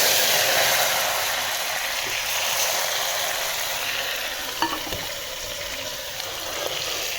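Meat (gosht) cooks in a hot pan on a home stove, a dense, even hiss of sizzling with occasional soft clicks, close and steady, no talking.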